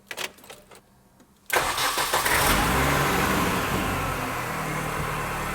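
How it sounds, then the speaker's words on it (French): A rally car's engine turns over and fires after some quiet clicks and handling noise, then settles into a steady, loud idle that continues to the end. "Bah, il reste plus qu'à la démarrer."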